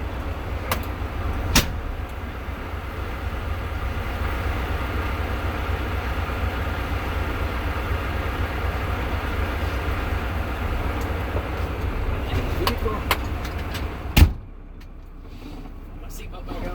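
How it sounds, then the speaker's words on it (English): A truck engine idles at a steady low rumble during a CDL brake test, running continuously under a voice that talks throughout. A sharp clunk comes near the end, then the sound drops quieter. "I would like to leave the vehicle running so I can exit and remove the chop."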